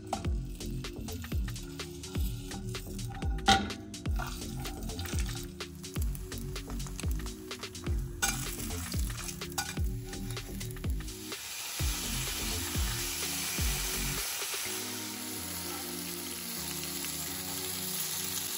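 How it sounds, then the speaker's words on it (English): Marinated beef galbi short ribs and kimchi pancakes sizzling in a pan, a loud, close, steady frying crackle with intermittent stirring scrapes over a long stretch, backed by quiet music and no talking. "And let's cook up this beef galbi as well."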